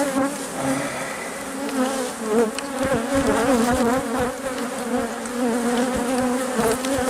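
Honeybees swarming around an opened hive during a requeening check, a dense, loud, continuous buzz close by with wavering pitch as bees fly past.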